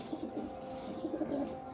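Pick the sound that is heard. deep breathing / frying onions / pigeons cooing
pigeons cooing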